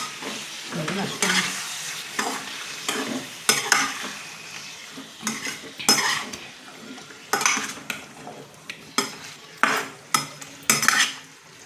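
A spoon scrapes and clanks in a pan while chicken liver fry is stirred over a soft sizzle, with irregular metallic knocks growing sharper toward the end, close by and with no talking.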